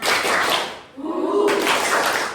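A sixth-grade class performs a spirit clap, a loud burst of many hands, then a brief lull where a voice calls out, followed by another burst of clapping, close and energetic.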